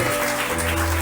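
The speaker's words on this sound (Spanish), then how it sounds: "Dele fuerte palmas" Congregation applause in a church during a sermon, a dense, steady wash of clapping that fills the whole moment at full loudness with no talk over it.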